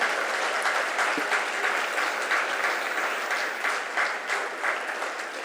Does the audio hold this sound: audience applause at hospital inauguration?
yes